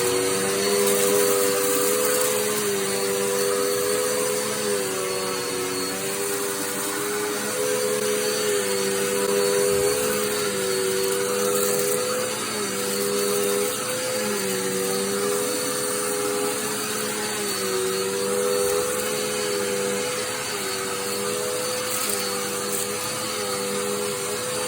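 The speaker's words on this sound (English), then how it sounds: "So I'm going to switch it to the regular floor vacuum portion and try to vacuum up" Dirt Devil Endura Reach bagless upright vacuum cleaner running steadily on the floor setting across a mat, a continuous loud motor whine and airflow roar with slight wavering in pitch and no speech.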